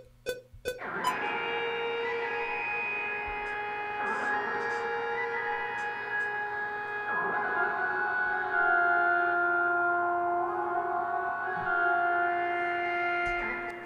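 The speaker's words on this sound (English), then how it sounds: "I put through this lead through just a reverb." A sustained synth lead drenched in reverb with pre-delay swells over a low drone, long smeared notes gliding between pitches with a spacious wash and a few sharp clicks at the start.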